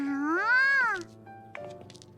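A cat meows in a video game, one long rising-and-falling cry up close, followed by quieter background game sounds.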